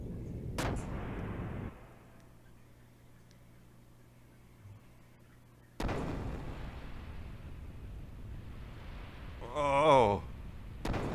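Ship's cannon firing at an enemy in the Xenogears video game: two sharp, loud blasts several seconds apart, each trailing into a rumbling roar over a low hum, with a warbling tone near the end.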